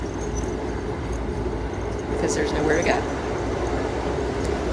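Steady low rumble and clatter of a moving train car heard from inside the carriage, continuous and moderately loud, with a person talking briefly over it.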